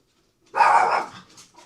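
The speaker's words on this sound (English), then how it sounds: "And my dog is barking." A single dog barks once, loud and near, in a short harsh burst that trails off into a softer breathy tail, with silence before it.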